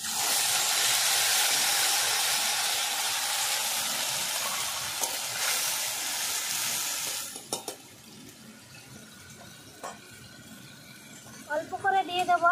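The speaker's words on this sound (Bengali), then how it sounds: "তেল গরম হয়ে গেছে, দিয়ে দেব কালো জিরে ফোড়নে। দিয়ে দেব পেঁয়াজ বাটা।" Onion paste and black cumin seeds dropped into hot oil give a loud, broad sizzle that fades after several seconds into quieter spitting and stirring clatter, with someone talking over it in a home kitchen.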